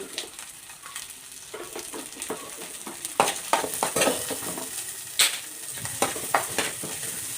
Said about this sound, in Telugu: Onions, chilli వేసేసుకుంటాం. కొంచెం కరివేపాకు వేసుకున్నాం.